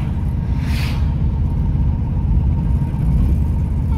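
An old Zaporozhets car drives along an open road at about 50–60 km/h, its engine giving a steady, loud, low rumble and whirring drone from inside the cabin, with a brief higher swish early on.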